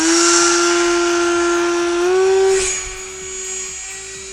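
A small electric motor on a HobbyKing Hall Cherokee RC glider whines at a steady high pitch during a hand launch, rising briefly and then settling lower as the plane pulls away.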